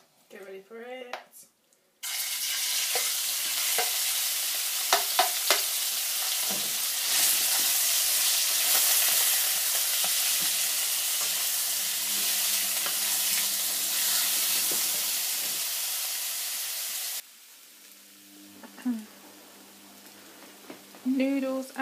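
Stir fry vegetables of carrots, peppers and bamboo sizzle loudly in a pan with a steady, dense hiss that starts abruptly and stops after about fifteen seconds; brief speech is heard before and after.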